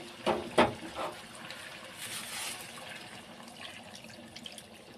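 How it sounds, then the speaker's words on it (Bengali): Water poured from a vessel into chicken simmering in a cooking pot for a curry, with a couple of quick splashing bursts near the start followed by a softer, steady wash that fades into the background. "চিকেনটাতে আমি এবার পুরো জলটা দিয়ে দেবো।"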